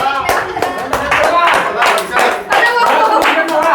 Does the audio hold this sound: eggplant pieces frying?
no